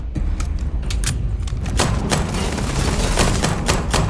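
Rapid bursts of sci-fi gunfire in Starfield combat, sharp repeated shots cracking in uneven volleys over a steady loud backdrop of battle noise, with no voices over them.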